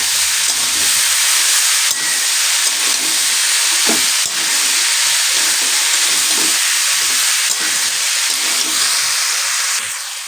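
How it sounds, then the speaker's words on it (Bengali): Spiced chickpea curry being sautéed in a pan sends up a loud, continuous hiss and sizzle, with occasional soft knocks of stirring, close up and without voices. "এবার একটু সুন্দর করে আমি কষিয়ে নেব"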